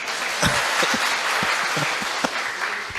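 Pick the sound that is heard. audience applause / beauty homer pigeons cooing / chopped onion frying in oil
audience applause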